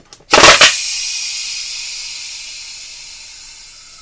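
Compressed air from a compressor hisses out of a small leak at a fitting on a homemade screw-action air gun: an initial burst followed by a steady, slowly fading hiss with no talk over it.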